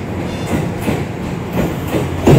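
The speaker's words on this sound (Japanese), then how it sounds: "こんな感じで速度制限を受けながらかなりゆっくりこの小田原駅に入線してきます" A commuter train pulls slowly into Odawara station under a speed restriction, its wheels and motors giving a steady, close, loud rumble with faint clattering throughout and no talk.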